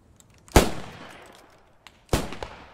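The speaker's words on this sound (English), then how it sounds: "Shots. Taking fire." Two sharp gunshots crack out in a military video game, about a second and a half apart, each loud and close with a short decaying echo, with no talking.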